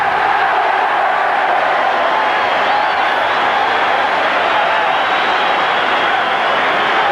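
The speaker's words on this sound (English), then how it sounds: "Listen to the cheer." Big stadium crowd at a rugby league World Club Challenge final, Widnes against Canberra, roaring steadily as the championship trophy is presented, a continuous loud wash of cheering with no breaks.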